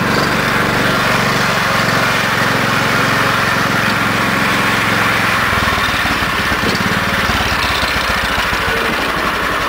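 A Cushman motor scooter's engine putters and drones loudly and continuously while being ridden through snow, heard up close with a rough, buzzing vibration and no break in the sound.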